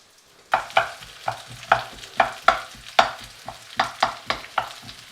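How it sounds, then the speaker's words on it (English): Onions for a spam curry hiss and sizzle in a hot pan while a spoon scrapes and stirs in a steady rhythm, about a dozen sharp knocks and scrapes over a continuous fry, close and clear with no talking. "so we'll put the onions in"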